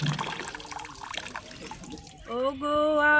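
Water pouring from a timed public tap, a splashing flow up close that gives way to a rising whistle-like tone as the stream changes, with singing heard over it.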